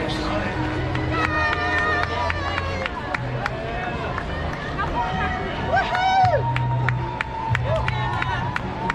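Spectators at the Rumpshaker 5k fun run in Birmingham, Alabama cheer and clap as young runners enter a stadium, a steady crowd roar with scattered whoops, while an announcer talks over it.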